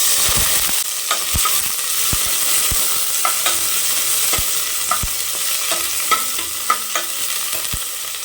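Crushed shallots sizzle in hot oil for mutton kothu curry, a bright continuous frying hiss, close and loud, punctuated by sharp spoon taps and stirring clicks against the pan.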